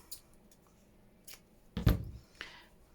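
Scissors snipping through craft material for a woodland autumn junk journal file folder: a few short, crisp cuts, with one louder snip near the middle, set against a quiet room and no talking.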